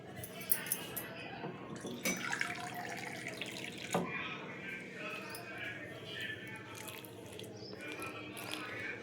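Water trickled and splashed into semolina dough being mixed for pani puri, a soft wet pouring and dripping with occasional clinks, heard under someone talking.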